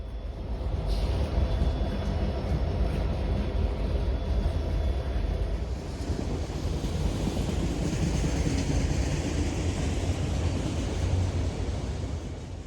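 Norfolk Southern SD70ACU and SD40-2 locomotives rolling past, a steady loud rumble and rush of wheels and cars with a faint high whine early on, continuous and close throughout.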